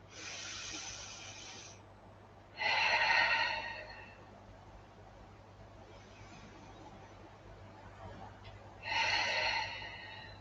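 Gentle, slow breaths come in three airy surges, the later two fuller and louder, with quiet pauses between them in a calm room.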